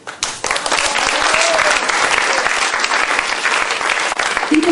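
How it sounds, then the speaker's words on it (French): An audience applauds the association president at a charity show in Geneva, a dense burst of clapping that rises quickly and holds steady and loud to the end. "Je vous prie de l'applaudir bien fort"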